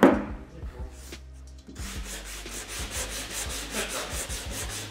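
Sandpaper rubs over a surface during a spray-can repair job, making a steady rhythmic rasping that repeats stroke after stroke after a brief knock at the start, close and fairly loud.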